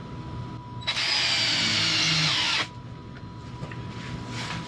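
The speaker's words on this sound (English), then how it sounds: "going to need to drill a hole in here to put in temporarily just the cable" A power drill bores a hole for a cable during installation of a green line laser on a Wood-Mizer LT40 sawmill, whirring steadily for just under two seconds, then stopping into quiet room tone.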